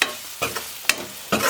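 Chilli powder stirred into a sizzling murrel fish curry in a pan, a few short scraping strokes over a soft frying hiss.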